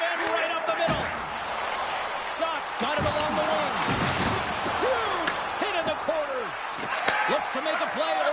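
A hard body check in an ice hockey video game lands as a heavy board-slamming thud amid skate scrapes, puck clacks and crowd noise, with play-by-play commentary running throughout.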